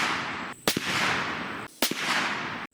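Two loud, sharp gunshots from a 30-30 Winchester rifle firing Remington Core-Lokt 125 grain Managed Recoil ammunition into ballistic gel, about a second apart, each a sudden crack with a short ringing decay over steady background noise.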